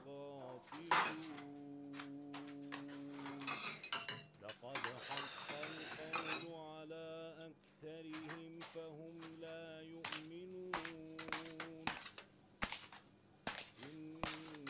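Plastic plates and spoons clatter and clink again and again at close range while people talk throughout.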